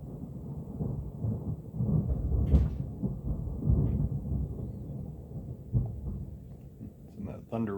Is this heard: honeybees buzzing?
no